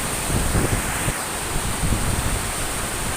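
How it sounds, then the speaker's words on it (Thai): A constant roaring wash of heavy rain and gusting wind, loud and close, with no voices or pauses. "ตกหนักนะคะทั้งลม ทั้งฝน"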